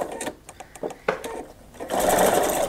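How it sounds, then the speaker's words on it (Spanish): A sewing machine backstitches mesh fabric for a bottle carrier, running forward and back in short stuttering bursts before settling into a louder, steady continuous whir. "remataremos hacia atrás, volveremos hacia adelante y otra vez hacia atrás"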